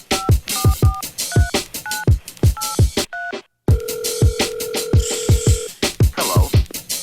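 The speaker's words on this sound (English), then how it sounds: "There's the dial tone." Telephone tones sampled in a hip-hop song, a run of dialing beeps over a thumping beat, a brief dropout, then a steady held phone tone layered with the music.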